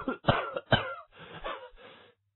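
A violent fit of coughing: four or five harsh, close coughs in quick succession, ending in a rough throat-clearing, with no talk.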